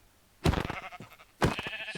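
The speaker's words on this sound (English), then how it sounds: "Let's get some of these sheeps." Two loud, close sheep bleats from a video game, each a wavering cry with a short tail, spaced about a second apart over quiet background.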